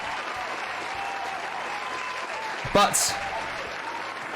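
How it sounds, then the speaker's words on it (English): A studio audience at a late-night style live show applauds in a steady, even wash of clapping, with a brief louder burst near the end. "Everyone in the audience, I think you guys deserve a round of applause as well."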